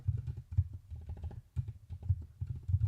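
Computer keyboard keys tapped in quick, uneven bursts while a command is typed, with a short pause midway. The clicks are close and fairly soft, and no one speaks.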